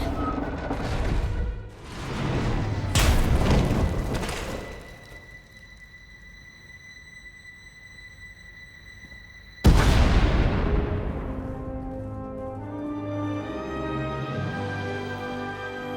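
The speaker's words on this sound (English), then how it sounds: "We heard explosions, the tunnel collapsed." Several heavy booms and rumbling blasts with a sharp tonal hum between them, then a loud explosive crash and lingering rumble as a tunnel collapses, from a Star Wars: Knights of the Eternal Throne game cinematic.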